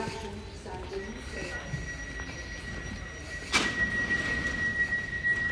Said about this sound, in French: il y a le métro, là, ligne 14